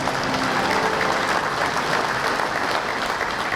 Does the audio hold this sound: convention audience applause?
yes